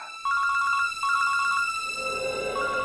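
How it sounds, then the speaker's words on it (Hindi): A phone rings with two bursts of rapid electronic trills, loud and close, followed by a lower tone as the ringing continues. "बंटी के स्कूल से फोन।"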